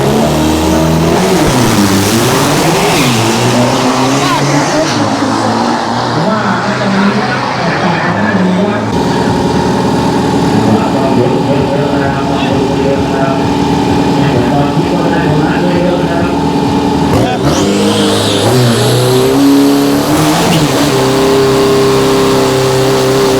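A diesel drag racing car at a Thai drag strip revs hard at the start line and launches, loud engine roar rising and surging with turbo whine, while people talk over it nearby.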